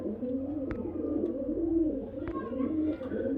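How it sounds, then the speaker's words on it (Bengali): Murshidabadi Giribaz pigeons, a male among them, coo in low, rolling murmurs, close by, with a couple of sharp clicks or taps in between. "এই যে দেখুন মুর্শিদাবাজ নর পায়রা"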